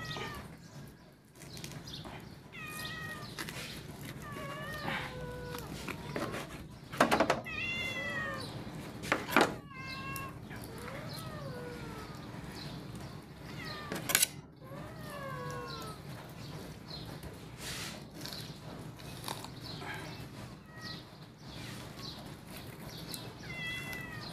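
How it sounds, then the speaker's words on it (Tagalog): Many pet cats meowing noisily over and over, overlapping cries and yowls repeating through a steady domestic background hum, fairly close and loud. "Maingay. Nag-iingawan ng mga pusa."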